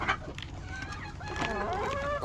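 Hens in a laying area cluck and croon close by, a run of short wavering calls that rise into a longer drawn-out cackle, with low background noise and no talk.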